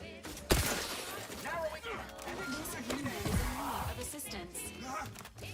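Sniper gunfire in a video game: sharp shots crack out amid game noise, with a loud burst near the start and another around three seconds, while someone talks over the action.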